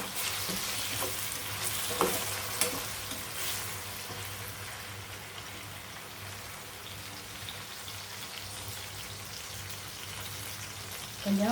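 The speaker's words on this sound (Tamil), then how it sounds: "இப்போ 2 மீடியம் சைஸ் தக்காளி போடுறேன்." Tomatoes, two medium ones, go into a pan of softened onions for a mackerel and mango sambal, and a steady broadband sizzle of frying runs throughout with a few louder spatters near the start and end.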